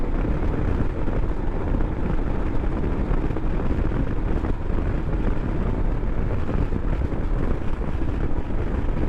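A 2021 Royal Enfield Himalayan motorcycle riding on a street, heard as a steady, loud rush of wind buffeting and low road and engine rumble, with little distinct exhaust note throughout.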